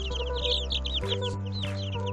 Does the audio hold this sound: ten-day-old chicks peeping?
yes